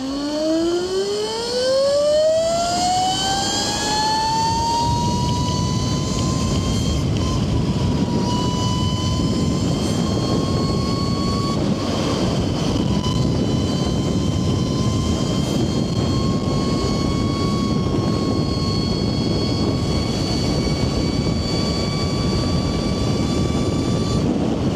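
A 72V electric Yozma IN 10 supermoto accelerating on a main road, its motor whine rising steeply in pitch over the first few seconds and then holding a steady high tone over loud, constant wind roar.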